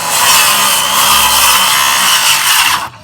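A circular saw cuts through wood at an antique farmhouse barn, a loud, continuous harsh whir lasting about three seconds before stopping abruptly.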